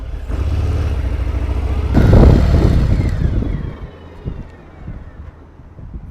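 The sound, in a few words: Harley-Davidson Fat Bob motorcycle riding, 114 motor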